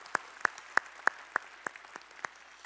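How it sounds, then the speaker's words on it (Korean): A church congregation claps in unison during a Sunday worship service, about eight sharp, evenly spaced claps in a steady rhythm that fades slightly toward the end, in a quiet hall. "우리의 찬양을 받으실 주님께 영광의 박수 올리겠습니다."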